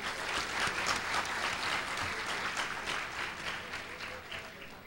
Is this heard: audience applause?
yes